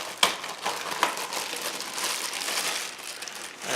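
Crinkling plastic bag as a Tesla CHAdeMO charging adapter is taken out of it: close, dense crackling and rustling, opened by a couple of sharp snaps and then running steadily with no voices.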